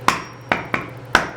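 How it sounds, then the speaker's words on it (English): Four sharp hammer blows strike concrete to break it free, each a loud, close metallic crack with a brief ring, spaced unevenly about half a second apart. "Just hammer it like this?"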